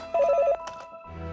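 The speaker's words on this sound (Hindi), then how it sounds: "राज का फोन होगा।" A telephone bell rings in a quick, trilling burst in an indoor setting, followed by soft handling noises and a low murmur.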